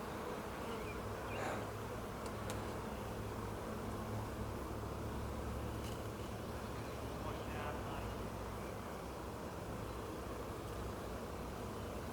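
Honey bees in a hollow tree buzz steadily in a dense, low hum during a trapout in Millbury, Massachusetts, faint and continuous, with no clear break across the whole stretch.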